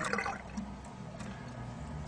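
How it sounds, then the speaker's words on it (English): Tap water runs from a kitchen sink faucet as a steady, close hiss of flowing water that holds for about two seconds, with no talking. "This one you're simply going to turn on the water"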